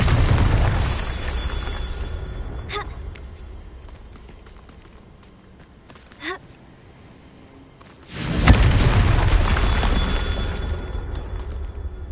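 A blasting fire spell explodes in a Harry Potter video game: a low rumbling ambience and a small pop give way to one loud, deep boom that keeps roaring to the end.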